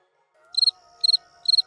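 Cricket chirping used as a sound effect in the anime Danmachi: three clear, evenly spaced bursts of rapid pulsed chirps over a faint steady background tone, with no voices.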